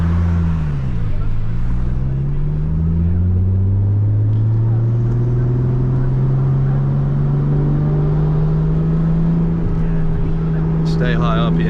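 A Nissan Skyline R32 GTS-T engine pulls hard while driving, a loud droning note that dips at a gear change and then climbs steadily in pitch, with a voice speaking over it.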